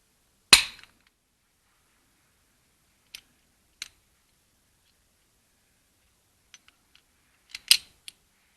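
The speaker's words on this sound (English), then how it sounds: "everything gets set with the torque wrench" A torque wrench gives sharp, isolated clicks while bolts on a 1980 VW van rear CV joint are tightened, a loud snap at the start followed by a few fainter ticks and another loud click near the end, with silence between them.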